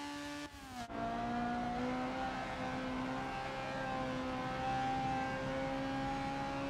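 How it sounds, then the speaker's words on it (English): A Honda Civic Type R EP3 holds high revs on a hot lap around a racing circuit. The loud engine note drops briefly at a shift, then climbs steadily and continuously with no talk. "the hot lap for the Honda Civic Type R EP3, and we cross the finish line and we start braking"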